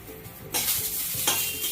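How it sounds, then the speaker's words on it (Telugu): Green chillies and curry leaves fry in hot oil for a tomato chutney. After a quieter start, a sudden loud sizzle bursts in and holds steady, with a second flare a moment later and faint stirring underneath. "పచ్చిమిర్చి వేగుతున్నప్పుడే మనం కొంచెం కరివేపాకు వేసుకోవాలి"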